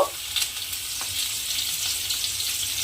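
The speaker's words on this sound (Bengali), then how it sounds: "কুমড়োটাকে একটু লাল করে ভেজে নিতে হবে" Diced pumpkin, lightly salted, fries in hot oil in a pan with a close, steady sizzle and a few soft crackles and stirring taps throughout.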